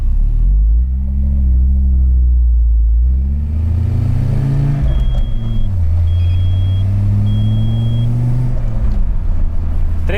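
An Audi S4 engine pulls hard at full throttle in third gear, a loud, steady in-car drone rising and falling in pitch through the run with no talk over it.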